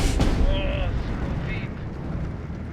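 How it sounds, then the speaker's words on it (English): Artillery fire and bomb blasts in the WWII strategy game Steel Division 2: one heavy boom near the start, then a low, steady battlefield rumble with faint whistling tones above it. "Did they manage to get bombs through, or was that just enemy artillery?"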